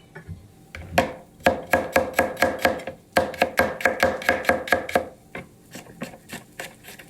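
Fresh garlic being chopped on a board with a knife, a close run of sharp, quick taps in fast bursts with a brief pause midway and a slower trail of cuts at the end.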